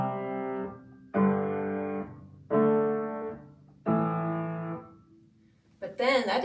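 Four sustained piano chords are played one after another, with the sustain pedal lifted between chords, so each chord rings and then cuts off to near silence before the next. A voice starts speaking right at the end.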